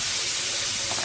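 Steam hisses steadily from a pressure cooker cooling under a cold tap in a kitchen sink, a loud, continuous broadband rush with no talk over it.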